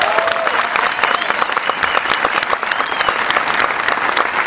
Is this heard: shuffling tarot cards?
no